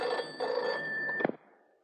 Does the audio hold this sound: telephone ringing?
yes